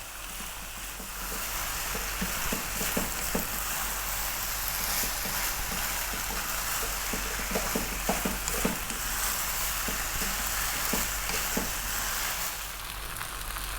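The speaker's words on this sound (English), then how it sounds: "That's your rice frying." Chicken fried rice frying in a hot pan, a continuous loud sizzle with scattered scraping and stirring taps throughout, no talking.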